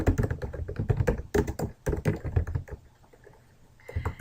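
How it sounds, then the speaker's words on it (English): Fingers type on a computer keyboard in quick, uneven bursts of close clicks, then a short pause before a few more keystrokes, with no voice. "So here I'm going to type in located just outside of the Rocky Mountains."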